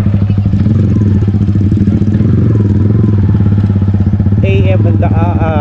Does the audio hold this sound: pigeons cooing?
no